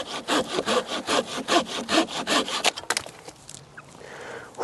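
A Fiskars hand saw cuts through a tree trunk about 10–12 cm thick in steady rhythmic back-and-forth strokes, close and rasping, then the sawing stops and faint rustling follows.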